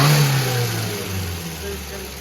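Engine of a Quantum sports car, an old abandoned car being brought back, revving and running steadily during fine-tuning, a continuous mid-pitched drone close by with slight shifts in pitch.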